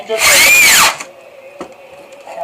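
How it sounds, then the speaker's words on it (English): Power drill driving large screws through hinges on a folding plywood workbench, one loud close whirring burst under a second that rises and falls in pitch, then quiet clicks and small handling noises. "Attach your hinges with large screws so they can support the weight"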